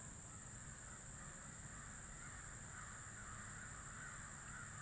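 Crows cawing outdoors, a steady chorus of calls over constant background noise, moderately distant and without speech.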